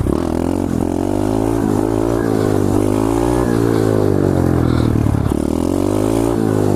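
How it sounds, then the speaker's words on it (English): A pit bike ridden in wheelies along a sidewalk, its small engine droning loud and close with rising and falling revs, plus some rattling clatter. "we on the sidewalk hitting wheelies"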